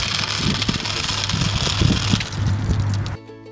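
The small electric motor of a solar-powered Ray Catcher toy car whirs steadily and close by, a buzzing hum with slight wobble that cuts off abruptly just before the end.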